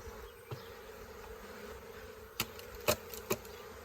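A swarm of honeybees buzzing around hive boxes on a farm, a steady low drone with a few sharp close knocks or taps near the end, faint overall.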